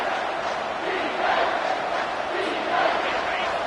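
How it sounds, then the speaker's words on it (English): A large college football stadium crowd roars steadily during a red zone defensive stand, a dense wall of cheering and shouting that swells slightly in waves, with no clear voice standing out. "This crowd is trying to inspire this defense to make a big red zone stop"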